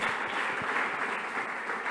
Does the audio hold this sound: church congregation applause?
yes